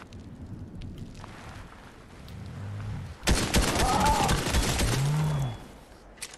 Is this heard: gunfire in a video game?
yes